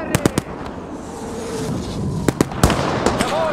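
Battlefield combat during the Siege of Warsaw, with sharp blasts and bangs: a quick cluster of three cracks, then several more sharp reports near the end over a rumbling background.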